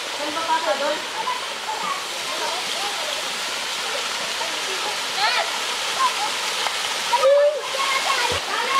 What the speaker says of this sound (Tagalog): nakarating na tayo sa talon na tinatawag dito sa amin